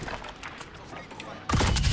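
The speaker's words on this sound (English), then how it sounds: "Just getting shot everywhere." Gunfire striking the player in a Call of Duty Warzone quads match on Caldera, quiet at first, then a loud, dense burst of impacts and shots crashing in near the end.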